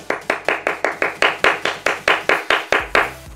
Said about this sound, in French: je vais applaudir